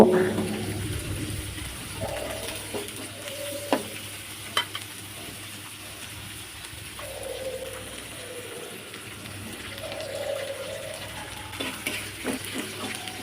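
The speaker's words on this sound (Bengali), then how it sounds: "মিষ্টি কুমড়ার ছোগলাগুলো উল্টিয়ে পাল্টিয়ে ভালোভাবে 3 মিনিট নাড়াচাড়া করে" Pumpkin peels are stirred and fried in a wok, a soft steady sizzle with occasional spatula clicks and turning sounds, close but fairly quiet.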